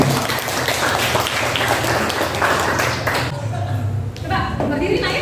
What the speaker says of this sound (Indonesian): Oke, tepuk tangan dulu dong kelompok kita.